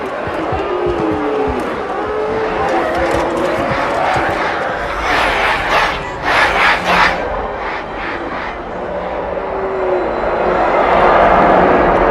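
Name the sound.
crowd cheering in Halo 2 Anniversary video game cutscene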